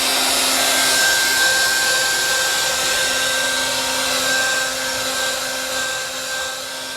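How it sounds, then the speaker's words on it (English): A heat gun warms a vehicle floorboard and R-Blox sound dampening mat, blowing a loud, steady airy roar with a thin whine that holds throughout and eases slightly near the end. "I'm going to start heating again both the floorboard and the R-Blox"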